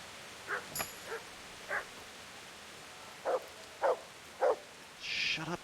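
A dog in the medieval video game Kingdom Come: Deliverance barks several times at moderate distance, short separate yelps over a quiet hissing ambience.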